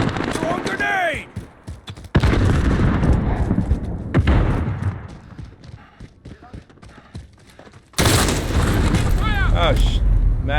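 Video game combat with loud booming blasts and bursts of gunfire, sharp sudden onsets and rumbling tails, set against radio chatter and voices talking throughout.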